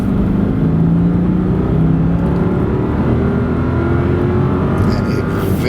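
A 2006 Jaguar XK8 Convertible's V8 engine hums and revs steadily nearby, a continuous loud drone throughout with no talking.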